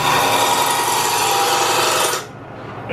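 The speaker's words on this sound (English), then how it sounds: "We'll get my roughing gouge, we'll turn this thing straight." A roughing gouge cuts a spinning wooden goblet blank on a Jet lathe, making a steady, loud, close scraping whir for about two seconds before the cut stops and the sound drops away.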